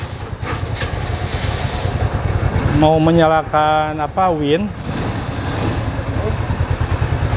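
An ATV engine (Hammer Pro 200 with an electric winch) idles steadily and close throughout, a continuous low rumble under a man's speech, with a brief rising whine in the middle.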